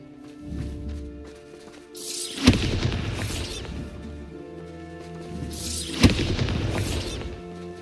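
Two heavy blasts from the Bombarda spell in Hogwarts Legacy, each a sharp booming crack followed by a crumbling, debris-filled tail, spaced a few seconds apart over low background game ambience.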